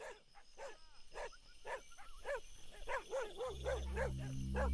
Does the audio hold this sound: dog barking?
yes